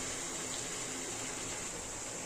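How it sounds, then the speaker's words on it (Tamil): Water pours steadily into a cooking pan while chicken gravy is being made, a faint, continuous splashing hiss with no break. "இப்போ இதில் ஒரு 1/4 கப் அளவு தண்ணி வந்து நம்ம சேர்த்துக்கலாம்"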